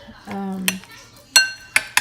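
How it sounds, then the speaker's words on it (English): A utensil clinks and scrapes against a bowl while egg, cinnamon and maple syrup batter is mixed for a paleo English muffin, giving a few sharp taps amid a short, quiet stirring sequence. "So I'm mixing everything together with the cinnamon, maple syrup,"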